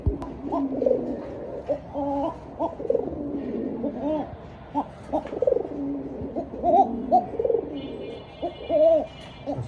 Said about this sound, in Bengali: ডাকটা কি সুন্দর আছে পুরো একদম অরিজিনালি কক একটা পেয়ার